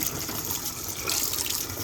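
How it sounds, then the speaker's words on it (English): Water running from an RV faucet after the plumbing lines were replaced, a steady rushing gush that holds for about two seconds with a brief surge near the middle, close and alone. "I got water going."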